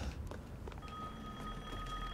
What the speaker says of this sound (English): Oh, I can hear a phone call.